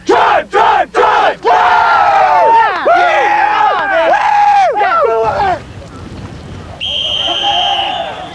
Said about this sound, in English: give them a big turtle cheer